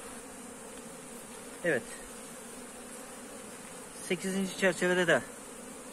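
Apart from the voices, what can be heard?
honey bees buzzing at an opened beehive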